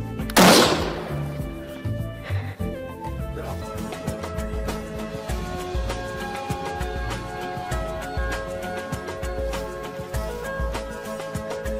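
A single loud rifle gunshot cracks near the start and echoes away during a chamois hunt, followed by a long stretch of rustling outdoor noise with a low rumble.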